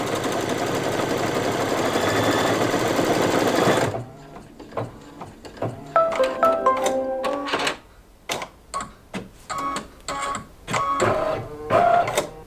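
An embroidery sewing machine stitches a design on a table topper project, first a steady buzzing whir for four seconds, then choppy bursts of rapid needle clatter with brief pauses between runs, close and clear.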